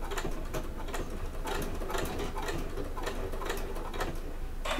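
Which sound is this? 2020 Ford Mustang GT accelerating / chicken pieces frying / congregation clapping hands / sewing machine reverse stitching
sewing machine reverse stitching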